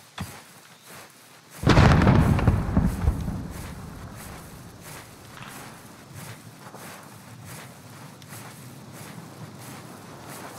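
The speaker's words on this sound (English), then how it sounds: "Frag grenade out." A frag grenade explodes in a video game: a sudden loud blast that rolls off into a long rumbling decay over a steady ambient background.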